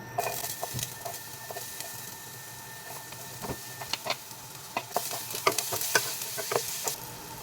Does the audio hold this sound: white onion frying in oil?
yes